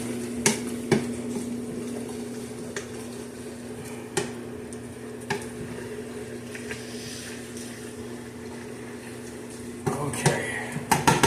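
Ground beef mixture being stirred in a pot, with scattered scrapes and clinks of a spoon against the metal over a steady low hum and a few louder knocks near the end.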